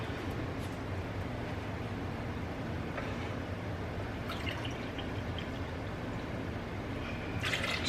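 Apple cider vinegar poured into a measuring cup in a home kitchen during pickle making: a steady, faint liquid rush running throughout, close and quiet, with no talk.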